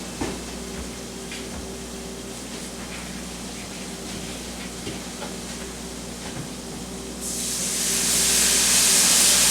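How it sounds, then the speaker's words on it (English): Steady sizzling hiss as liquids are poured into a thick chicken pot pie filling in a hot pan, close and continuous, growing louder and brighter toward the end. "Hear that sizzling?"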